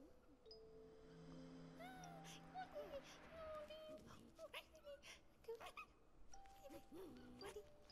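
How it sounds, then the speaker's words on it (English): A dog in the video game Happy Game gives soft whimpers and whiny cries, quiet and mixed with game music and effects, while a person talks over it. "We have a dog. We have a doggy."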